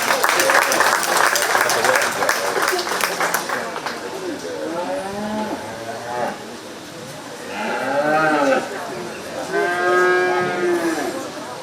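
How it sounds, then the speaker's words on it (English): Applause for exhibitors at a 4H cattle show at a county fair rises as a brief burst of clapping at the start, then fades while cattle moo repeatedly and loudly nearby and a voice talks faintly. "Let's give this group of exhibitors a really nice round of applause."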